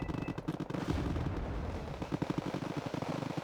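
Kinetic energy tank cannons fire in Wargame Red Dragon, a quiet, distant battle of rapid repeated thuds and crackling shots in close succession, forming a busy rumbling barrage.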